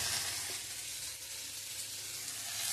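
Ground spices sauté in a hot pan with a dense, loud, continuous sizzle and frying hiss that holds steady throughout, no talking.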